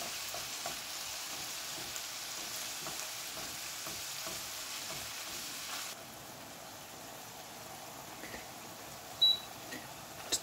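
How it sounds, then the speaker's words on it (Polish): Pork tenderloin sizzles and crackles steadily in coconut oil in a hot pan, quieting slightly partway through, with a couple of brief clinks near the end. "Dokładamy polędwiczkę i smażymy 4 minuty."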